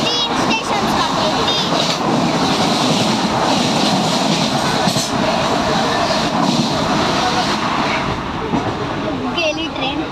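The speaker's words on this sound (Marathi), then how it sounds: "3 गेली ट्रेन. किती आवाज येत होता." Train running past, a loud continuous rumble and roar heard from on board, with people talking over the noise.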